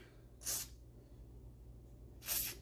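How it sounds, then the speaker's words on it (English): Two short hissing bursts of penetrating spray onto a rusted brake rotor of a 2015 Toyota RAV4, close up, separated by a pause, over a low steady background hum. "I'm gonna just start off with a little bit of penetrating spray."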